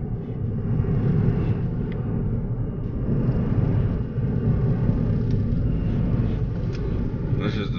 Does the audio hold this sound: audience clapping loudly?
no